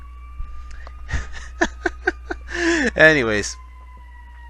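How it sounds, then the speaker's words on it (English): A passing ambulance siren holds a steady, slowly drifting wail through the whole stretch, fairly faint beneath someone talking in the foreground. "it's the ambulance. He's running through."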